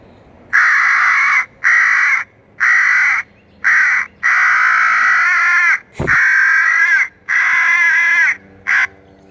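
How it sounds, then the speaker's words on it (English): Loud, repeated harsh cawing of crows from an electronic caller, in a steady series of long raspy calls separated by short pauses. "Crow distress."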